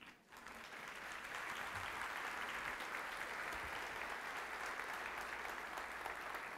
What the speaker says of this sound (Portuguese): Quer aplaudir? Pode aplaudir.